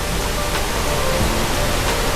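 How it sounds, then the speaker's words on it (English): Glencar waterfall in County Sligo, Ireland, pours in a steady, dense, close rushing roar with no breaks, on a rainy day. "We're at Glen Car waterfall in County Sligo."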